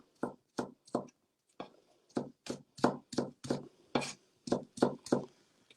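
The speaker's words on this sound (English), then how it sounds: "I'm now just going to place them flat on my chopping board and then chop them into matchsticks." A knife chops carrot strips into matchsticks on a chopping board, a series of crisp, close taps in short bursts of two or three with brief pauses between.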